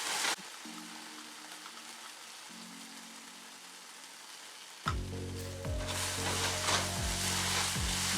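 A vegan tomato and egg substitute hits a hot pan after a quiet stretch with a faint low hum, bursting into loud, steady sizzling and frying that carries on to the end, with no voices.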